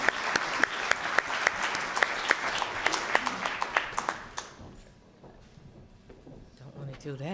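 Audience applause at a community speaking event in Ypsilanti, Michigan, a small crowd clapping in quick, sharp beats for about four seconds before fading, with a voice speaking afterward.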